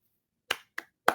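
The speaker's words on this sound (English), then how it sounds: "I'll give a hand clap for that one" Three sharp hand claps, close and dry, with uneven spacing and short gaps of silence between them.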